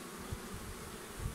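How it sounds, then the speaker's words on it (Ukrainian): A wild honeybee swarm held in a box, giving a steady low buzzing hum with a few louder swells, close by and without talk. "Дивіться, бджолки тут спокійні,"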